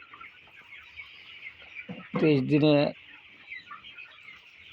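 Broiler chickens on a poultry farm, 23 days old, cluck with a steady murmur of chatter. One louder, closer squawking burst stands out in the middle, and a voice talks briefly over the flock.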